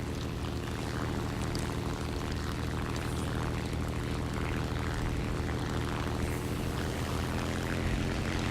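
A propeller plane engine in a video game drones loudly and steadily, a dense throbbing buzz with a continuous airscrew whir that never lets up.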